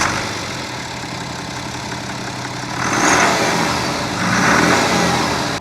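A BMW X5 engine idles smoothly nearby, with two gentle revs swelling the steady hum before it settles again.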